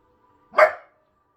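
A dog lets out a single short, sharp bark, close and loud, alone in an otherwise quiet room.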